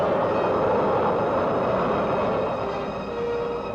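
A V-2 rocket climbing about a mile up during a 1947 White Sands launch, its roar a steady, dense, broadband rumble that holds loud and continuous throughout with no voices.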